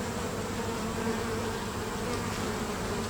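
Honey bees buzz at a brood frame pulled from a feeder hive, a dense, close, continuous drone of many wings with no pauses.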